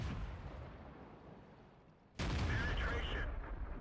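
Quiet rumbling tank engine noise, then a single loud, sudden cannon blast from a light tank in World of Tanks, followed by a sustained booming roar and ringing that cuts off.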